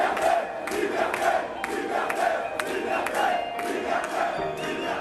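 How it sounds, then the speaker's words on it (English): Protest crowd storming a shopping mall in France over vaccine passports, a dense roar of many voices with rhythmic chanting and shouts pulsing steadily throughout, echoing indoors. "Watch this crowd storm the shopping mall to push back against vaccine passports"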